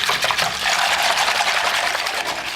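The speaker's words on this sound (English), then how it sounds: "in a minute we're going to put the top on and we'll do the old shake and shake" A liquid mixture for venison spring rolls sloshes and rattles inside a lidded container as it is shaken hard, a loud continuous washing churn with no voices.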